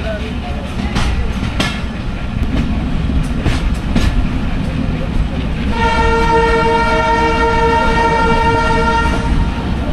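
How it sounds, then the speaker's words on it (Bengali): The Kanchan Commuter, a broad-gauge Bangladesh Railway train, pulls away with a close, heavy rumble and wheel clatter, then sounds a long, loud horn blast that carries to the end. "আমাদের কাঞ্চন কমিউটার ছেড়ে দিল।"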